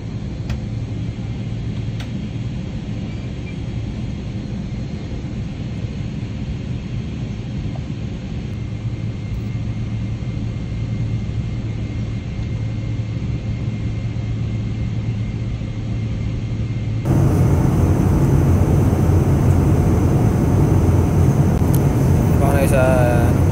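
Steady low cabin rumble of an airliner in flight, constant and close, getting louder and brighter for the final few seconds.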